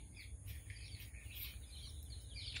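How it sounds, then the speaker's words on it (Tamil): Red-wattled lapwing calling near a canal in a park, with repeated faint bird calls over a steady low rumble of background noise. "அதுக்குள்ளே எங்களோட ஆட்காட்டியும் இருக்குது. நாங்கள் சுடலக்குருவின்னு சொல்லி சொல்லுவோம். சிவப்பு நிற ஆள்காட்டி."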